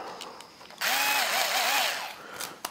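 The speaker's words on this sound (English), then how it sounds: "It's an automatic screwdriver," A handheld automatic electric screwdriver whirs into motion close up and runs steadily for nearly two seconds, its motor pitch dipping and rising in a wavering pattern before cutting off, with faint clicks around it.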